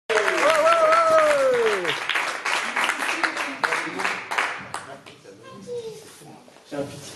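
Loud, dense applause from an audience at a slam poetry evening in Vence, steady for about five seconds and then thinning into scattered claps, with a voice over it at the start.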